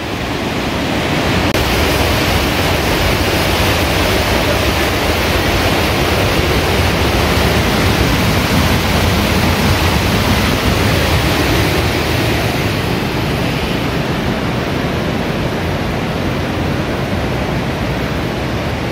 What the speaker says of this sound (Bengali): তার জন্যই এই জায়গা হচ্ছে হলি ওয়াটারফল, আর এই জল হচ্ছে হলি ওয়াটার।